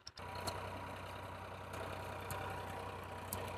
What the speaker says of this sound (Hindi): देख सकते हैं दोस्तों ट्रैक्टर बिल्कुल फ्री चल रहा है